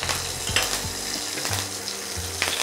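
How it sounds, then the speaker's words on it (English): Curry leaves, mustard seeds, urad dal and dried red chili sizzle and crackle in hot oil, with a quick spoon stir scraping the pan and a few sharp pops over a steady frying hiss. "and a quick stir."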